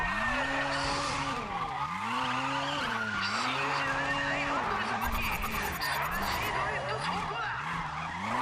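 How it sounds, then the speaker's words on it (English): A race car drifting in the GRID racing game, an engine roaring with rising and falling revs under sustained tire squeal and skidding, loud and continuous, with game sound effects layered over it. "Apparently was a great drift."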